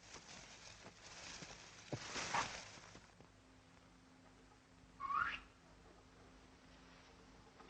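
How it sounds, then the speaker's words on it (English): A man whistles a short signal, one rising whistle followed by a second brief whistle a few seconds later, faint and somewhat distant against a quiet background. "He whistled."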